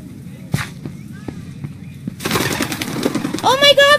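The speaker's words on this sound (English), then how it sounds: "Oh my God, those were pigeons!" Pigeons burst into flight in a Minecraft alley: a sudden flurry of flapping wings rises from near silence and carries on for the last couple of seconds, with a voice exclaiming over the end.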